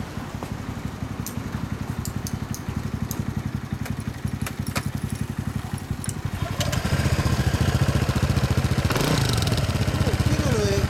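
A custom Honda Grom MSX125 motorcycle with an RPM exhaust muffler idles with a steady, rapid thumping beat, then revs up louder and rougher for the last few seconds, while people talk nearby.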